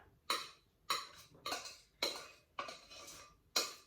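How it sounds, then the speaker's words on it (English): Six evenly spaced clinks of a spoon against a large dish while sushi rice is scooped in, each a bright metallic knock with a short fade, close by and fairly quiet. "you're going to spoon it carefully into a large dish"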